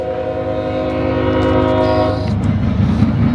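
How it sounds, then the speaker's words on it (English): A southbound CSX grain train in Marion, Ohio blasts a loud, sustained horn while rolling past close by, with heavy rumbling wheel noise taking over as the horn ends. "Got a grain train."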